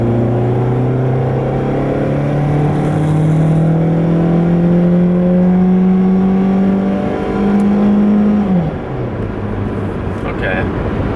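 A 2006 Pontiac Vibe accelerates hard at full throttle, its engine note climbing steadily before a gear change drops the pitch near the end; a loud, close in-cabin drone with road noise beneath.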